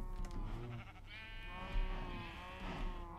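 Sheep bleat in Minecraft farmland near cows, a couple of drawn-out nasal calls of moderate loudness with no talking.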